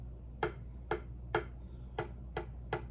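Light, crisp taps struck at an even pace, six soft clicks about half a second apart over a low steady hum.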